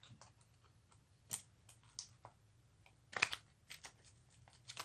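Cards from a deck are shuffled for a tabletop war board game, heard as quiet scattered riffling and flicking bursts with short pauses between them, close and fairly faint, with no talk.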